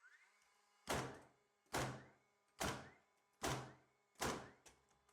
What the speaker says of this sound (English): we're going to be shooting a standard Doug fir 2x6 through the 2x6 into the 5/8